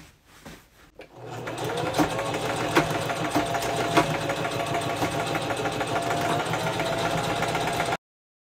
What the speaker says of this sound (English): I'm going to take my sewing machine again, and I'm going to stitch the two ends together.